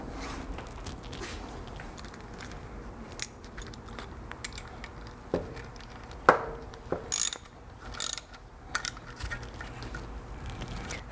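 A ratchet tightens a car's timing belt tensioner in short bursts of clicking and metallic clatter, spaced irregularly over a quiet, faint background, close at hand.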